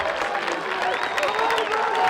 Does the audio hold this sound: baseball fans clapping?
yes